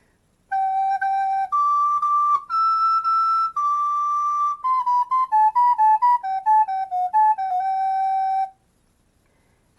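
A practiced player plays a clear, steady recorder melody alone, moving through held notes and then quicker stepwise phrases at a moderate, even volume before stopping.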